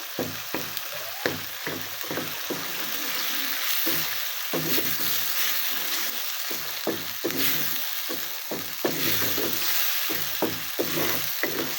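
Tomato masala frying in a pan, a continuous sizzle broken by repeated scraping strokes of a spoon as it is stirred, close and fairly loud.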